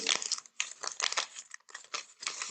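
Sheets of paper crinkle and crumple between a child's hands for a craft appliqué, close and soft, in several short bursts with brief pauses and no talking.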